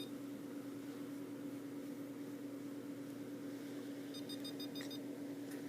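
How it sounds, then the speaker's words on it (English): A lab instrument on a quality-control bench gives a short run of electronic beeps near the end, faint over a steady low machine hum. "It's fixing to start beeping."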